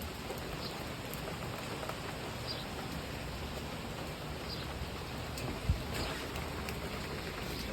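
Steady rain falls outside, a constant soft hiss of drops on surfaces with no talking, one brief low thump partway through and a small knock at the very end.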